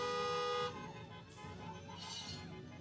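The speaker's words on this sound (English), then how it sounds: "Hey, here goes the horn." Car horns honking in celebration at a senior class car processional, a steady horn tone at the start giving way to further toots amid crowd and traffic noise.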